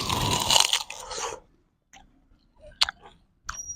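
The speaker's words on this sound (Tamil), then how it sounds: "இது கடிக்கிற சவுண்ட் எப்படி இருக்குன்னு பார்க்க போறோம்" A loud crunchy bite into food recorded close up for ASMR, a dense crackling burst followed by quieter chewing clicks and short crunches.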